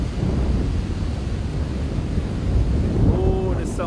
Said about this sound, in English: Oh, the sounds of the waves and the breeze blowing in my face